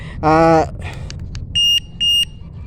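An electric bike horn's anti-theft alarm sounds a loud electronic tone with strong harmonics briefly, followed by small clicks and two short, shrill beeps in quick succession.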